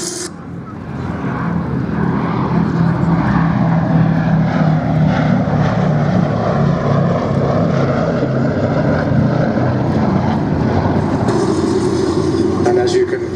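Boeing B-17 bomber making a flyby at the Duxford air show, a steady loud drone of piston propeller engines holding throughout with a broad rumbling roar.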